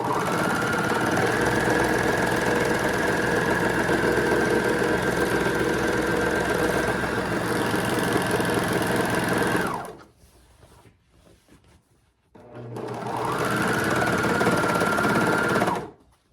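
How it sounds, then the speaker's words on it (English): A sewing machine stitches through four fabric layers of a tote bag pocket, a loud, steady mechanical whirr with rapid rhythmic clatter that pauses for a couple of seconds and then resumes. "It's going over 4 layers. Going over 4 layers of that pocket."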